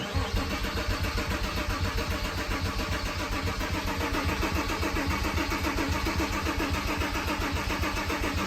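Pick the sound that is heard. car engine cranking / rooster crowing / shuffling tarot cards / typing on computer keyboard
car engine cranking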